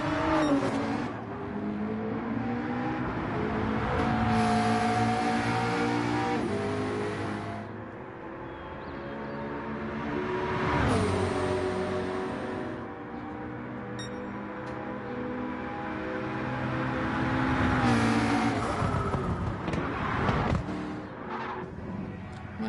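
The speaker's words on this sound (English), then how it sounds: "We were looking at the Amigos Racing Team there in the 650S McLaren." A McLaren 650S GT race car in qualifying at Bathurst's 12 Hour race, its engine screaming through repeated upshifts as it accelerates, with a loud, sustained, high-revving howl that surges and fades as the car passes.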